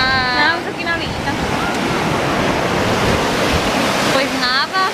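Rough sea waves breaking on a beach, a loud, continuous roar of surf and wind-blown spray filling the whole stretch, with faint squeaks and chirps at the start and end.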